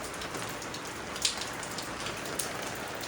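Heavy rain pours down steadily in a dense, even hiss of drops striking surfaces, with a couple of sharper individual splashes and no voices.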